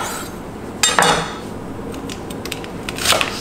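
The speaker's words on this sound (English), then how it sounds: "Now we're going to cut the scallions, basically separate the whites and the greens." Knife chopping fresh scallions on a cutting board, a few sharp close taps and crisp slicing strokes spaced unevenly over a quiet kitchen background.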